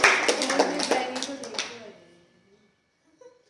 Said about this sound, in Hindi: श्रुति के लिए ताली।